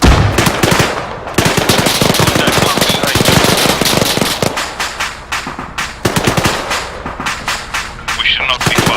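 Heavy sustained gunfire around a base in Arma 3, a CSAT expanding scenario: loud, continuous machine-gun bursts and scattered shots fill the whole stretch, with a voice talking faintly beneath the shooting.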